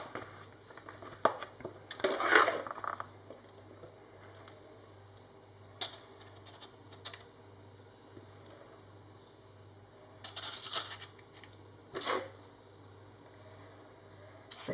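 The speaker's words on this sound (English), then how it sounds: "And then you have to spoon the mix into your muffin cases." Raspberry lemon muffin mix spooned into muffin cases, with soft scattered taps, squishy scrapes and occasional clinks of spoon against bowl, faint and intermittent under a low background hum.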